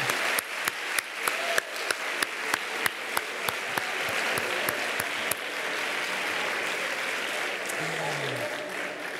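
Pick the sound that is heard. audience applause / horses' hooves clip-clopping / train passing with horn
audience applause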